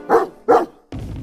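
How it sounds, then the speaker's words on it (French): A cartoon puppy gives two loud, close barks in quick succession, followed by a burst of noisy rumbling. "Alors je vais aboyer, et ta maison va s'envoler."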